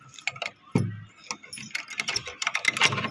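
A bunch of keys jangles and clinks in quick irregular bursts while a gate is pulled shut and locked, close and crisp, with a few thuds of the lock and gate mixed in.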